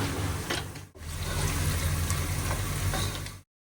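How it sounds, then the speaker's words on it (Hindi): Onions frying with whole garam masala in a pan, a dense continuous sizzle filling the clip with a brief dip near the start, close and loud, before it cuts off abruptly. "दूसरी तरफ अब हम ऑनियन को ब्राउन कर लेंगे"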